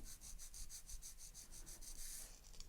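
Quick, steady back-and-forth strokes of a nail file shaping a sculptured acrylic-gel nail along the side of the nail groove, a soft rhythmic scratching repeated about a dozen times, close and fairly quiet, with no talking.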